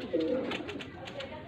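A female Sialkoti pigeon coos close by, a short low throaty call with soft bird sounds around it.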